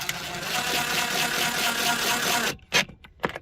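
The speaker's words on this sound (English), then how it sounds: "Ease the screw in." Power drill easing a screw into a trailer tool cubby, a steady whirring motor for about two and a half seconds that stops, followed by two short bursts, close and without talk.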